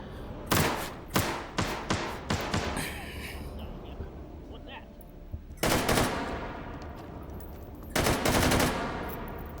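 Virtual KF-7 Soviet (AK-74N) rifle fire in the VR shooter H3VR, with sharp bursts of close gunshots in quick succession early on, a quiet gap, then two more short bursts.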